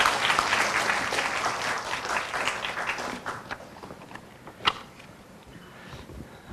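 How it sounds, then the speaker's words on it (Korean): An audience at a university orientation claps to welcome the university president, dense applause at first that gradually thins and fades over several seconds, with a faint voice near the end. "큰 박수로 총장님을 맞이해 주시기 바랍니다"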